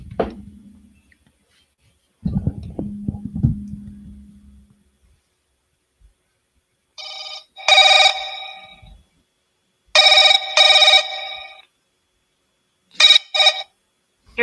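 A phone line rings on an outgoing call: several repeated electronic ring bursts in paired pulses with silent gaps between, preceded by a few quiet handling clicks and thumps, heard close with no talking.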